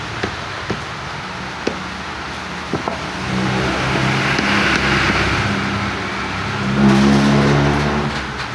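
A car engine idles and then revs up twice after a transmission support made from an old tire is fitted, with a few sharp knocks early on and the revving rising and falling close by.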